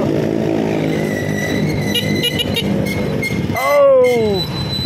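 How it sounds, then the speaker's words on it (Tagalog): Busy road traffic on Papurak Road in Angeles, Philippines: a steady mix of car and motorcycle engines close by, with one engine revving up and down toward the end, under a person talking. "Grabe traffic dito."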